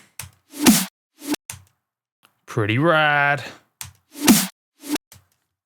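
Swelling whooshes rise and cut off sharply, repeating in a loose rhythm, with a short stretch of a person talking in the middle.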